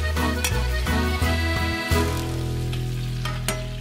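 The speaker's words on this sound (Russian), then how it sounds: "Пусть жарится" Meat sizzles and crackles steadily in a hot cauldron, a dense continuous frying hiss broken by a few sharper pops and scrapes.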